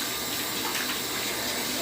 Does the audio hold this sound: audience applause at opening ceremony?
no